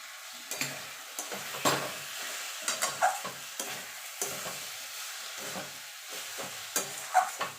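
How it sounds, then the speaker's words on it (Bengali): A spoon stirs ash gourd and mung dal curry in a pan after sugar goes in, making a series of soft, close scraping strokes over a faint sizzle. "চিনিটা দিয়ে মিনিট খানেক একটুখানি নাড়াচাড়া করে নেব।"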